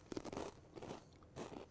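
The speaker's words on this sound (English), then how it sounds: "now you hear us crunching" Several people crunching Triscuit crackers loaded with dip, crisp close bites coming in short bursts with brief pauses between them, and no talking.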